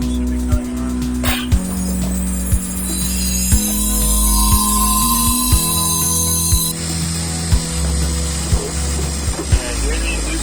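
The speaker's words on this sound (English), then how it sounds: "And here's the inducer motor." Inside a Lennox rooftop heating unit, a motor hums steadily as the inducer starts up. The pitch steps up a few times and regular clicking ticks repeat over a loud mechanical background, with no talking.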